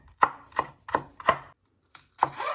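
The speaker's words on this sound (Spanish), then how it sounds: "Ahora voy a picar la cebolla lo más fina posible" Onion being finely chopped with a knife on a cutting board: five crisp, evenly spaced close knocks, then a short pause before the last one.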